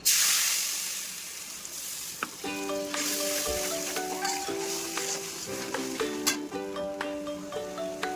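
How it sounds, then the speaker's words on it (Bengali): A ground paste of cumin, mustard, poppy seed, chili and ginger frying in hot oil, with a steady close sizzle and hiss throughout, while tonal music plays in the background. "আর এর মধ্যে আমি আগে থেকে বেটে রেখেছিলাম জিরে, সর্ষে, পোস্ত আর লঙ্কা আর আদা। এটা আমি তেলের মধ্যে দিয়ে দিলাম।"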